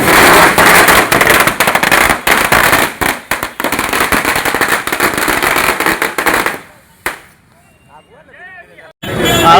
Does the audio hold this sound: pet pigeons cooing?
no